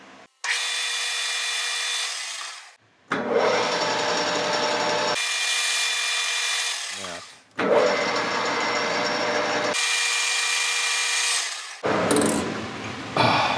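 A metal lathe center-drills, drills and reams a part for a Mikuni VM carburetor fuel level tool, with bursts of harsh grinding and cutting noise separated by short pauses, loud and close.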